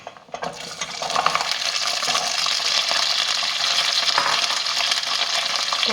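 Small shallots dropped into hot oil in a pan for mutton uppukari set off a sudden, loud, steady sizzle with a few crackles, continuing evenly without speech.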